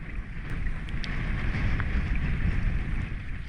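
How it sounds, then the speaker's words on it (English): Strong headwind gusting across the open Rio Palena while packrafting, loud rumbling wind buffeting the microphone with a faint splash or paddle knock now and then. "But with the sun came the wind, a painful headwind that made us work hard to keep floating on downstream."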